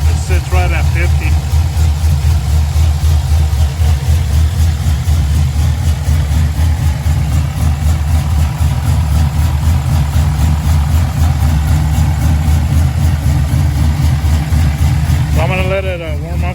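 An LSA-swapped V8 idles steadily while warming up, a loud, close, deep rumble holding continuously, with a brief chirpy noise near the end.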